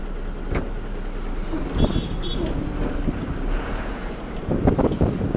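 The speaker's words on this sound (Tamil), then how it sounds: "வண்டி எடுத்துட்டுங்க முன்னாடி போய் நிறுத்திக்கலாம் வாங்க" A 14-wheel lorry pulls away along a road, its deep engine rumble steady and close throughout, mixed with wind buffeting the microphone, several short knocks and a brief high tone partway through.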